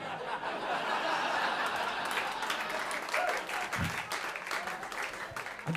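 Comedy club audience applauding steadily for several seconds after a stand-up joke, a dense, even wash of clapping mixed with scattered chuckles and laughter throughout.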